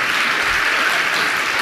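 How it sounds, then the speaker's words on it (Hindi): Audience applauding steadily at a spiritual discourse by Praman Sagar Ji Maharaj, an even wash of many hands clapping, fairly loud and unbroken throughout. "ताली बजाइए अच्छे से"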